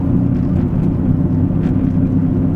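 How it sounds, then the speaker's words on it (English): Steady low tire and road roar inside a moving 2005 Lincoln LS V8 Sport, a continuous loud rumble filling the cabin with no speech. "It's a quiet interior, but the tires up front, or whatever that is loud."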